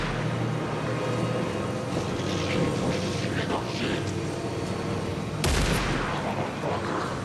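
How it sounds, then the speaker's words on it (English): Gunfire in the video game Alan Wake 2 rings out amid a dense, noisy game soundscape, with a loud sharp burst near the end standing out over the steady din. "Are they shooting at me, or is someone shooting at them?"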